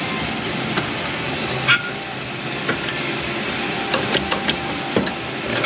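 Ratchet loosening the steering shaft bolt under a 2007 Ford Escape: scattered metallic clicks and short ratcheting bursts over a noisy workshop background, with no talking.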